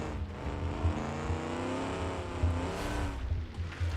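An older car's engine races in a gravel circuit time trial video game, holding a steady buzzing drone at high revs that rises and falls slightly, moderately loud with no talk over it.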